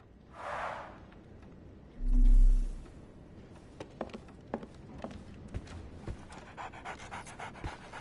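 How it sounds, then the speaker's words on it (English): A dog pants in the Sherlock Holmes The Awakened video game, a steady run of quick breaths lasting the whole stretch. A short tone sounds partway through and light taps come after it. "So, Barnes has a dog now."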